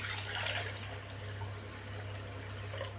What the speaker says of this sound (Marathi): भरपूर असं पाणी टाकायचं,